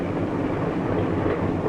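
Passenger train rolling along rails in 1954, a continuous low rumbling roar with faint rhythmic wheel noise, steady and unbroken throughout.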